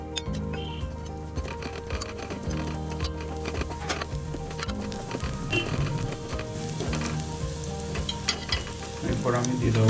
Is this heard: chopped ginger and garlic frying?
yes